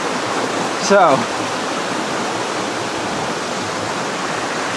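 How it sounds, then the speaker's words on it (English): A huge waterfall in Scotland roars as a steady, loud broadband wash throughout, with a brief voice cutting in near the start. "it's huge, this waterfall that's up there."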